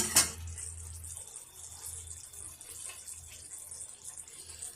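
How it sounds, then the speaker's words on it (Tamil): Thin coconut milk is poured into a simmering egg gravy, a soft liquid trickle and gentle bubbling after a brief clink at the start, quiet and close. "கொஞ்சமாக முதல் பால் சேர்த்துக்கலாம்."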